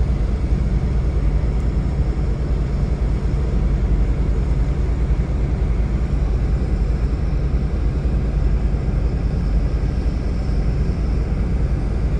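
A wrecked Tifton RV drives along the road, giving a steady low rumble of engine and road noise that stays even and continuous from the cabin, with no talking.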